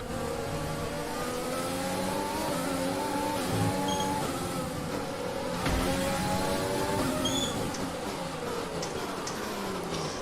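A Formula 1 car engine in the F1 2020 racing game drones steadily near and loud, with layered harmonic whine shifting up and down through gear changes across the whole stretch, alone with no talk.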